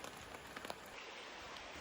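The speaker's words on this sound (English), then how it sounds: "it's raining at the Forks just like it did in the books" Rain falls steadily at a wilderness campsite with a tent, a dense soft hiss of drops that is fairly quiet, with a few slightly louder drop taps near the start.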